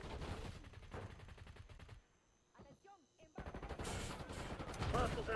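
Rapid automatic gunfire and explosions from a shooter video game, loud bursts that stop for about a second with a few faint sounds before heavy firing resumes.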